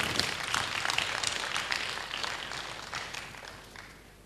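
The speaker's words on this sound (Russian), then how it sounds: "дайте аплодисменты Господу." An audience at a church gathering applauds, a dense patter of many hands clapping that is strong at first and gradually fades out.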